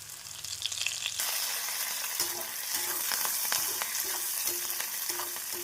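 Onions sizzle and crackle in hot oil, a steady frying hiss with occasional scraping from stirring, close by and continuous.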